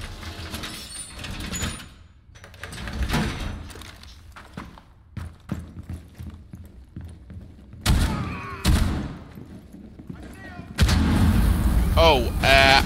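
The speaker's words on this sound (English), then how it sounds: "They shot my shield, and since they shot my shield, I got caught in the blast as well" In the shooter game Rainbow Six Siege, as the operator Goyu with a shield, sharp gunshots crack in scattered bursts, followed by a louder blast and rumbling impact near the end, with a voice talking at times.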